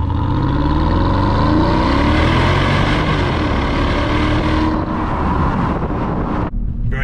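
Porsche Cayenne Turbo 955 with its 4.5-litre V8 roaring loudly through the exhaust, close-up, a dense sustained engine drone that holds steady for several seconds before easing briefly near the end.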